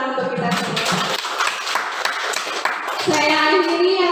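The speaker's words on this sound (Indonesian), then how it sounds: "kita berikan tepuk tangan untuk kita semua" Audience applause at the close of a school event in Indonesia, a broad wash of clapping that swells after a brief lull and carries on steadily alongside speech.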